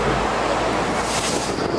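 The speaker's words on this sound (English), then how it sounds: "The reason is that the triangular shape of the Flatiron building creates a wind tunnel." Wind rushes through the wind-tunnel gust at the triangular Flatiron building in Manhattan, a loud, steady roar buffeting the microphone throughout, with no voices.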